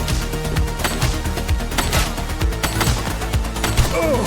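Rapid gunfire in a police shooter video game during a shootout with a gang suspect, loud bursts of shots in quick succession against a busy backdrop of music and effects, with no speech.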